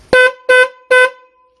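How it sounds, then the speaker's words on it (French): Car horn wired to a homemade alarm system honks three times in a steady rhythm, each blast about a third of a second long, loud and close, with nothing else heard between them. "le klaxon est branché donc au système"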